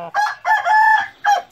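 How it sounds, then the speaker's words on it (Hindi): A Cheena Mushka Aseel rooster crows at close range, a loud, short, broken call in three bursts with no other sounds around it. "और खूबसूरत मुर्गा है ये।"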